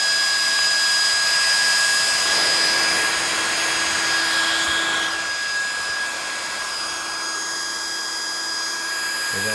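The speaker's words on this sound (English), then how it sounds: "And I know that fan's noisy" An HP DPS-1200SB server power supply's cooling fan gives a loud, steady whirring rush with a thin tonal whine on top, running alone and evenly throughout.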